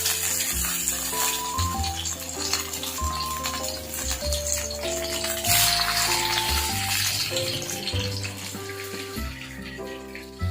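Catfish frying in hot oil gives a steady, close sizzle and crackle that runs the whole time under loud background music.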